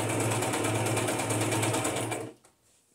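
A sewing machine stitches journal cards with pink thread, running loud and steady for over two seconds before stopping abruptly, leaving near quiet.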